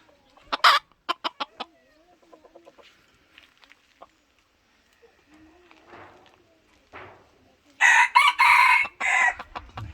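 A rooster crows loudly nearby and hens cluck in short bursts, with quieter barnyard sounds and faint voices in between.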